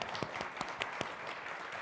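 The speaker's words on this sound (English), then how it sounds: "Give a round of applause for yourselves" Audience applause at an educators' question-and-answer panel, a faint, thin patter of scattered claps with a few sharper individual hand claps standing out over a short stretch.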